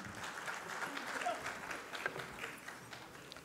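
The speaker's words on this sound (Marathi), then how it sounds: "जोरदार टाळ्या." A seated audience at a felicitation ceremony applauds, a faint, distant wash of clapping that stays even throughout with a few louder claps standing out.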